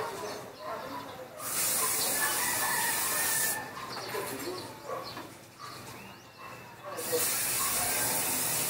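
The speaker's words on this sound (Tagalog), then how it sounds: "Then, mag-spray na ako." Aerosol fixative sprayed onto a drawing from about 20 to 30 centimeters away, heard as three loud, steady hissing bursts of a second or two each, separated by short pauses.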